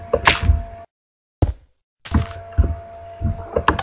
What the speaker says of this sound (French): le piston s'active, la porte s'ouvre